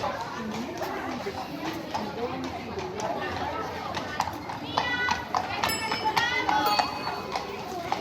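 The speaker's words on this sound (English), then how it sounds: "there is another coach with horses." Hooves of a horse-drawn coach clip-clop on pavement in Bruges amid lively chatter and children's voices, with a busy outdoor crowd murmuring throughout.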